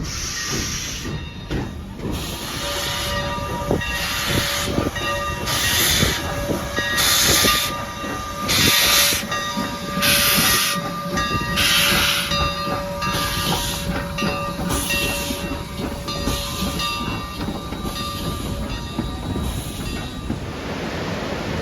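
A vintage 1919 Alco steam locomotive chugs along with rhythmic exhaust beats, hissing steam and a sustained whistle-like tone, heard fairly close and loud throughout.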